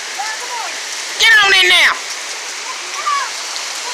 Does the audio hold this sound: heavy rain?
yes